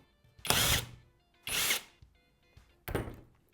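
A high-torque two-in-one cordless drill with a screwdriver bit runs in three short, close whirring bursts separated by quiet pauses, with small mechanical clicks between them.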